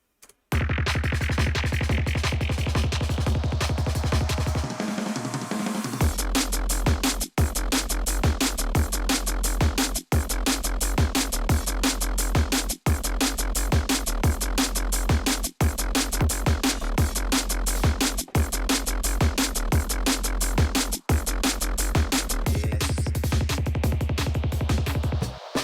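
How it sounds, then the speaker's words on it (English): A bubbly, warbly neuro bass synth patch built in Serum plays alone, loud and dense, with a wobbling, gurgling tone pulsing in a steady, repeating rhythm. "how to make a bubbly, sort of warbly neuro bass that sounds like this"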